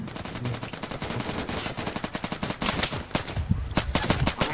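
Rapid bursts of automatic gunfire from the video game Insurgency, loud and dense with sharp repeated cracks throughout, a few louder single shots near the end, with faint voices underneath.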